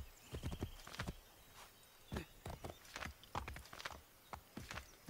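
Horse hooves clip-clop on hard ground in Assassin's Creed 3, an irregular walking rhythm of clear, close hoofbeats over quiet ambience.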